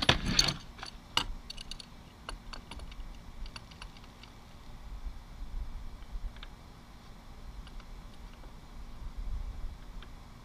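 A hand pump pushes air into a new Air Venturi Avenger air rifle, giving faint repeated mechanical clicks and rattles with a low steady hiss, quiet and close, with no talking.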